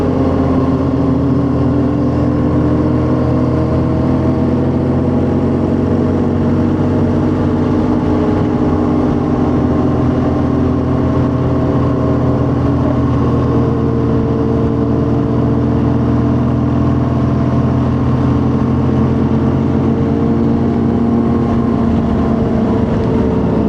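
A 2011 BMW R1200GS motorcycle riding on the street, its engine droning with a steady mid-pitched hum and a low rumble for over twenty seconds, loud and close with no shifts.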